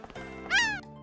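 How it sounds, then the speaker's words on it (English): A cat meows once in the video game Atelier Totori, a single clear rising-and-falling call standing out above a soft background of game music. "Meow. Meow. Meow. Kitties!"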